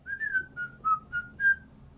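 A person whistles a short tune of six clear, sustained notes in a steady rhythm, close and fairly soft, with no talking.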